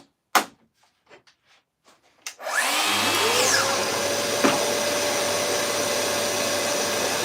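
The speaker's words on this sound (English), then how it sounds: "the dust extractor fired up" A dust extractor switches on after a few faint knocks and taps, rising to a steady, close whooshing drone with a low hum that runs unbroken to the end.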